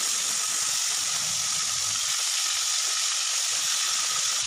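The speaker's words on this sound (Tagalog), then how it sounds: "Kaya yan, iprito muna natin, ha?" Chicken pieces fry in hot oil for sweet and sour chicken, a loud, dense, continuous hiss of bubbling oil heard close up with no talking.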